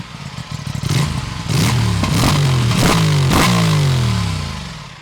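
A 2024 Aprilia RS 457 motorcycle engine revs loudly and close, several sharp throttle blips rising and falling in pitch before climbing into a sustained high-rev roar that tapers off, with no talking.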